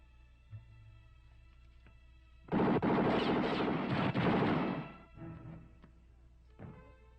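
A sudden loud burst of rapid gunfire from the town, sounding like a few seconds of sustained shooting that then fades, with quieter scattered noises before and after.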